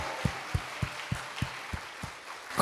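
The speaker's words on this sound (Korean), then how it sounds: "하나님께 박수로 영광, 그로리 그로리 할렐루야." A congregation at a Korean prayer-mountain revival service claps in a steady rhythm, with evenly spaced, moderately loud claps about three per second over a hall-filled background.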